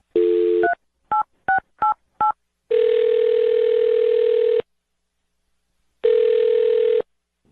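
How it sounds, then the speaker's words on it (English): A short rapid run of telephone keypad tones, followed by two long, steady ringback tones separated by a pause, loud and clear with no talking. "I'm going to dial her phone number right now"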